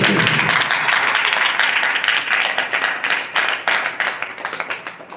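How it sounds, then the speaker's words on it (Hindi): Loud, sustained applause from a room of students fills the whole stretch, dense clapping that thins slightly toward the end. "हम अपना सदन जोरदार तालियों के साथ"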